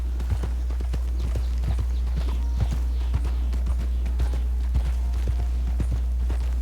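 Horse hooves clip-clop in a steady walking rhythm over a constant low hum, sharp and close, with synthetic game-like quality, from Red Dead Redemption 2 Online.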